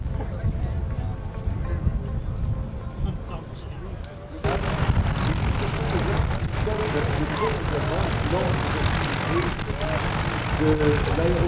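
An aerobatic patrol from the Dinan aero club flies at the 2023 Dinan air show. A steady engine drone swells sharply after a few seconds and stays loud and continuous, with crowd noise and a voice over it.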